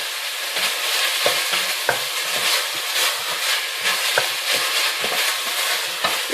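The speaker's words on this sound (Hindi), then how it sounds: "बस 1 मिनट से भी कम मैं इनको फ्राई करूंगी" Vegetables frying in a pan for samosa filling, a loud close sizzle with repeated scraping stirs and small pops throughout, no voices.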